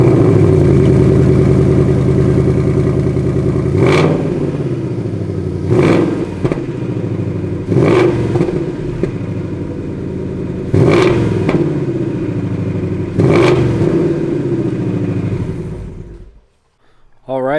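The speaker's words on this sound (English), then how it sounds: "drop the car down, start it, and see how it sounds with the OEM exhaust" A 2019 Ford Mustang GT V8 on its stock OEM exhaust starts up and idles loudly, then rises in five sharp revs spaced a couple of seconds apart before shutting off, recorded close by in a garage.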